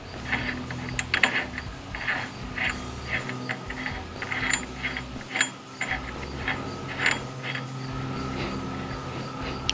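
Someone works on a Jeep JK wheel hub, threading the hub nut back on with a socket tool. It gives a run of small, close metallic clicks and ratcheting ticks at an uneven pace.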